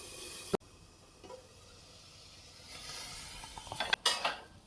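A metal lid lifted off a cooking pot of steamed moong vadi zunaka, giving a sharp clink near the start and a cluster of bright metallic rattles and scrapes toward the end, close and fairly quiet.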